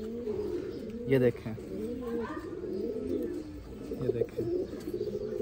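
Pigeons cooing in soft, repeated throaty rolls while a female pigeon is held in the hand, close by, with someone talking over the calls.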